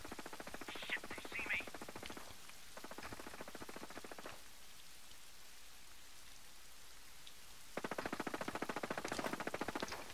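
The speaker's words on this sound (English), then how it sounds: "I hear gunfire" Rapid bursts of automatic gunfire in Ghost Recon Breakpoint rattle steadily over a hissing background, pausing briefly before another loud volley starts near the end.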